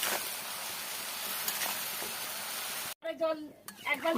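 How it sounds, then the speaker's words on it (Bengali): Bottle gourd leaves stirred in a sizzling pan as water is added, a steady close hiss of frying that cuts off abruptly, then sputtering, bubbling bursts as the water hits the hot pan. "ভালো করে মিশিয়ে দেবো, দিয়ে একটু জল দিয়ে দেবো।"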